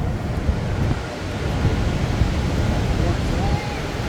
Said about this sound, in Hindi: पानी जब ऊपर से नीचे गिरता है तो एक तो ये बादल सा बनता है